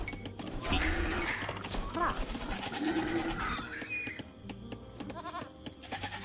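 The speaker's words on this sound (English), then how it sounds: "Run away, goat." A goat bleats in the medieval strategy video game Age of Empires 2, a brief animal call amid busy game effects, chirps and background clatter.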